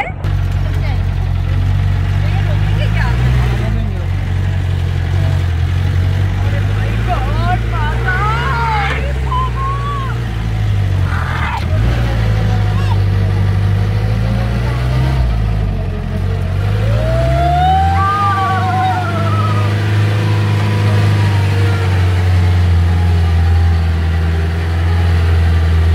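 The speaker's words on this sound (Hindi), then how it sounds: "ओपन जीप है" An open jeep on a desert safari near Jaisalmer, its engine droning loudly and steadily throughout, with voices and shouts mixed in over the running motor.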